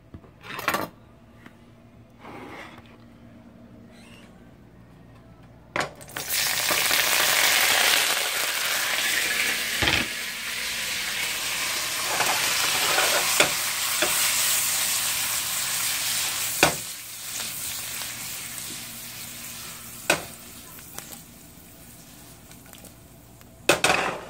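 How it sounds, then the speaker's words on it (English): Wild chanterelle mushrooms sauté in butter in a pan, going from quiet to a loud, dense sizzle partway through, with occasional sharp utensil clicks and no talking. "So we're going to saute them right quick."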